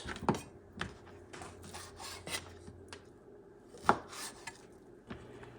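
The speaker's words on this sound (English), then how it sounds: "I'm going to cut it in cubes" A knife chops a pound of beef into cubes on a cutting board, with sharp, irregular thuds and scraping strokes spaced a second or so apart, close and clear with no talking.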